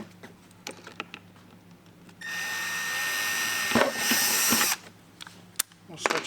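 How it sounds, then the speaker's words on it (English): A power drill with a 1/8-inch bit drives a pilot hole through a T-nut while mud flaps are fitted to a 2023 Toyota GR Corolla: one close, steady whine lasting a few seconds, framed by light clicks and handling noises. "Now we're going to use the T-nuts as our drilling guide. We're just going to drill"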